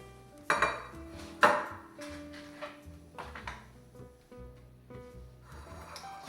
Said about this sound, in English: I am going to bring over these muffin tins.